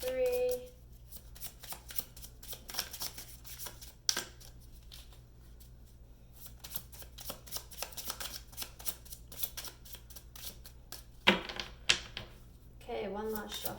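Tarot cards riffle and slap in quick repeated bursts, the crisp flicking coming close and fairly quiet, with brief pauses between shuffles.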